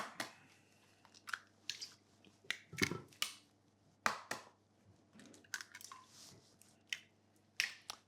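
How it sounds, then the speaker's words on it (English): An egg is cracked into a mixing bowl that already holds milk, giving a run of sharp, close taps, cracks and wet drips spread irregularly across several seconds in a quiet kitchen. "I break my egg"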